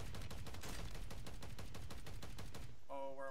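Rapid automatic gunfire in Call of Duty, a steady stream of evenly spaced loud shots for several seconds, then a brief tonal game chime as the firing stops.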